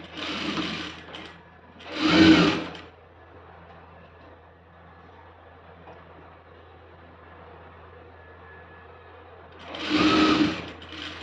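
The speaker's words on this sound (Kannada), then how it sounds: "ಇದರ ಮೇಲೆ ಸ್ಕರ್ಟ್ ಪೀಸ್ ಇರುತ್ತಲ್ವ ಇದನ್ನು ಹಾಕಿ ಸ್ಟಿಚ್ ಮಾಡಬೇಕು" Sewing machine stitching a pocket onto a school uniform skirt, running in three short loud bursts separated by a long quiet stretch with faint background hum.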